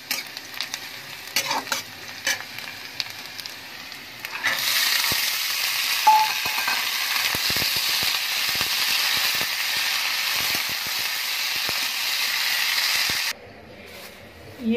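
Chickpeas frying for a breakfast chana fry, a steady loud sizzle with stirring clatter that starts a few seconds in and runs until near the end, with quieter kitchen sounds around it.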